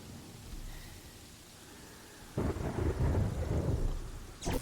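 Thunder and rain from a Terraria storm: a steady patter of rain, then a loud rumbling thunder roll bursts in about halfway and continues, with a sharp crack near the end. No voices.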